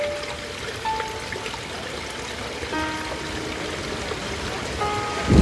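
Water running steadily at the partly frozen Zapata Falls in Colorado, a continuous close wash of flow with a few brief tonal chirps over it and a louder splash near the end.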